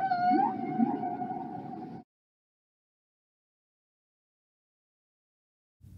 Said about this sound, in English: Whale.